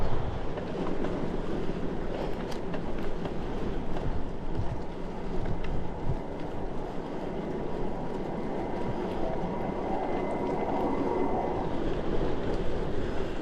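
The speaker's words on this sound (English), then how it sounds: "the wind is an easterly" A steady easterly wind buffets the microphone while cycling the Wakefield Wheel route on a cool early-spring day, a continuous loud, rumbling roar with gusty low-end thumps that holds level throughout, with no talking.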